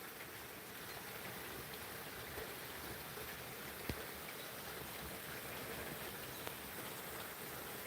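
Steady rain pours down in a dense, even hiss with no pauses, heard faintly at a distance, with an occasional soft tap standing out.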